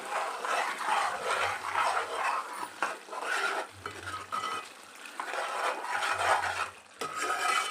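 Chicken curry with curry leaves being stirred in a pot, a spoon scraping and swishing in repeated bursts against the metal, with a faint low hum underneath and no voices.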